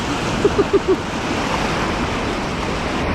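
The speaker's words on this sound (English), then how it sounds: "look at the waves crashing" Waves churn and crash in a strong current on the Ohio River, a continuous wash of surf and wind noise, with four short tonal chirps early on and no talking.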